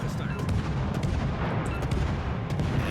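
Naval guns fire repeatedly in a warship video game, heavy booming shots overlapping into a dense, continuous barrage with a low rumbling body, loud throughout.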